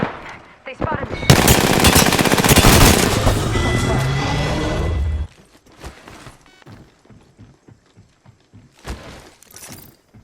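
Heavy automatic gunfire and explosive impacts in Apex Legends roar continuously for about five seconds, then drop to scattered faint clicks and a few sharper isolated shots.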